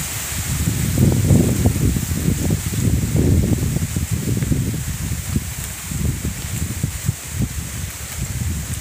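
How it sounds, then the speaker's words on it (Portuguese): Steady wind gusting through trees and leaves on a rural farm at dawn, a loud continuous rushing with buffeting microphone rumble throughout, no voices. "Olha o vento gostoso."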